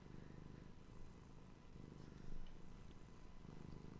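A pet cat purrs close and quietly, a soft, steady rumbling purr that swells in slow rhythmic cycles with each breath.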